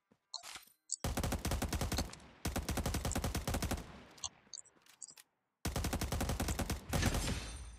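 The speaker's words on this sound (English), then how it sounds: "I hear gunshots" Rapid bursts of automatic gunfire from a battle royale video game, several loud sustained volleys separated by brief pauses, with a few single shots and short game interface blips in between.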